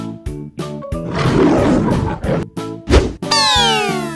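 A lion roars in a sustained, gravelly swell across most of the clip, set against playful synth music with a springy boing and sliding tones near the end.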